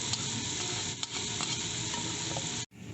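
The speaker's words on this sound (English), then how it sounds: "Now I'm going to put the rice in and stir it around for a couple of minutes so it goes a little bit golden." Rice is stirred and fried in butter until golden, making a dense, loud crackling sizzle with rhythmic scraping strokes. The sound cuts off abruptly near the end, then resumes.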